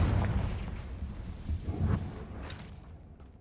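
A Confringo blasting spell going off in Hogwarts Legacy, a loud booming burst with rumbling low end that swells twice and then fades into a hissing tail, over continuous game ambience.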